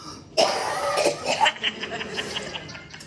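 A single sharp cough breaks the quiet, followed by a few softer breathy huffs that trail off.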